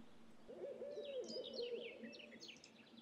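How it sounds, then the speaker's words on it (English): Wood owls hoot repeatedly in the ambient soundscape of the Spintires off-road logging game, their calls steady and fairly close over a low constant background hum, with higher bird chirps above. "You hear the owls, wood owls, and whatever else they are."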